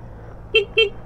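The stock horn of a Honda Click 125 scooter gives two short, thin beeps in quick succession, modest in loudness over a faint background hum.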